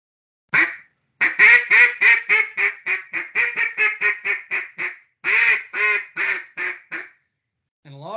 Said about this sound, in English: that's a sound when ducks are about to leave a spot and a hen might try to get a little more loud and try to call them back around